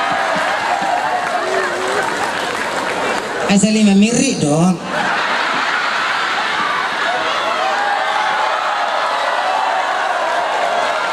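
An audience at a Batak comedy show applauds with a loud, dense, steady wash of clapping and laughter for about eleven seconds, with a voice breaking through briefly partway in.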